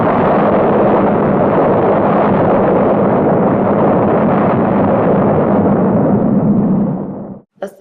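Atomic bomb blast of the Fat Man type over a city: a sustained, loud, rumbling roar with dense low-frequency thunder that holds for about seven seconds, then cuts off abruptly, followed by a brief faint crackle.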